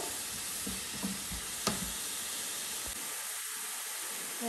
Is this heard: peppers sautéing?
yes